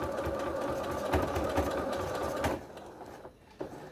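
Sewing machine stitching a French seam on a cushion cover, running steadily and loudly up close for about two and a half seconds before stopping, leaving a quieter tail with a faint click.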